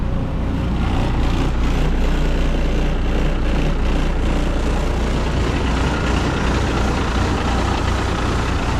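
A heavy vehicle's engine idles after a cold start on a freezing day, a loud, steady low rumble that runs unbroken throughout with no voices.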